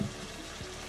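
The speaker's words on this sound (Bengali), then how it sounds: "এখন মশলাটা কষাবো" Spices and shrimp fry in a pan with a steady, soft close sizzle and a faint stirring scrape, brief and without talking.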